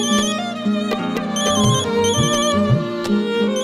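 A phone rings with a bright electronic melody over a steady musical backdrop, continuous and fairly loud, with no voices.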